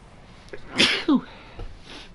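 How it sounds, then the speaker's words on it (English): A single sneeze close by, with a short breathy intake followed by a sharp burst, then quiet. "I've been needing to sneeze for a while now."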